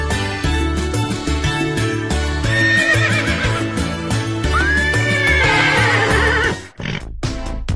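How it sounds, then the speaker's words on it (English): A horse whinnies loudly with a rising and falling call around the middle, over a steady rhythmic backing with the clop of hooves, then a short pause and a few more beats at the end. "Kuda."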